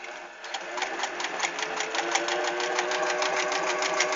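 A sewing machine stitches a seam at a regular stitch length, a steady, fast mechanical whir and rapid rhythmic clatter, close and fairly loud, running continuously without pause.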